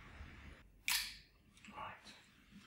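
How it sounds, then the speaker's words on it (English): A film camera shutter is cocked and fired, giving a sharp mechanical click followed by a softer winding rasp, close and fairly loud against a quiet room. "it cocks the shutter for another exposure"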